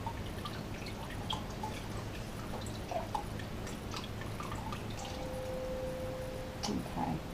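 Soy sauce pours into a beef jerky marinade as faint, close trickles and scattered drips of liquid in a quiet kitchen.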